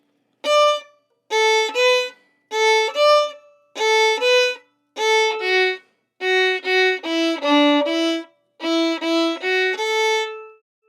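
Fiddle plays the A section of the folk tune Auntie Mary, a string of short bowed phrases separated by brief pauses, clear and close with no talking.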